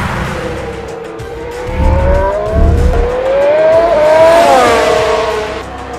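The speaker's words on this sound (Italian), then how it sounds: "La frenata più severa precede la curva 18." A Formula 1 car brakes hard from about 309 km/h before turn 18, the Rivazza, at Imola. It is loud and close, with the engine note sweeping down through rapid downshifts and a rising whine as it slows.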